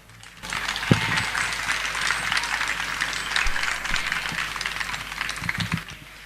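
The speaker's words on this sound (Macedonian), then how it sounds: "еден огромен аплауз." An evening festival crowd breaks into sustained, loud applause, a thick wash of clapping running throughout with a few sharper knocks and rattles near the start and end.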